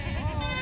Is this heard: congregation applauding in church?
no